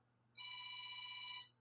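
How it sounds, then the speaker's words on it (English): A phone rings once in a single sustained electronic tone, faint and alone, starting after a brief quiet gap and cutting off cleanly. "That's my phone ringing."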